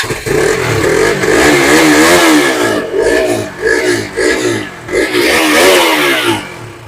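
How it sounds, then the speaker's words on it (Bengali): A fresh, A1-condition KTM Duke 200 motorcycle at a used bike showroom revs loudly and close, its engine rising and falling in several throttle blips with a rough, buzzing tone. "ইঞ্জিনের আওয়াজটা শুনিয়ে sound দাও আর দাদা"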